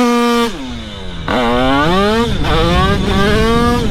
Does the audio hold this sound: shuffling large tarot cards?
no